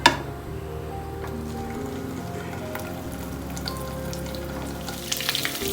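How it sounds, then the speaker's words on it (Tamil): Brinjal fries in plenty of sesame oil with a steady, close crackling sizzle, broken by a sharp clatter at the start and a few scrapes near the end. "கத்திரிக்காயை இதில் போட்டு வறுக்க போகிறோம்."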